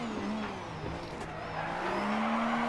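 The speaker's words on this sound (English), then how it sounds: "It has the unique sound that all the rallying MG Metros have, at least the Group B versions" The engine of a Group B MG Metro 6R4 rally car, naturally aspirated, revs hard in DiRT 4 with a steady high drone, gear shifts and a faint tire squeal running throughout.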